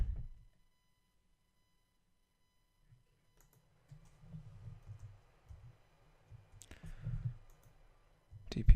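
Mouse clicks while working in a software interface, a few sharp isolated clicks in near silence with low thumps of handling between them, close and faint.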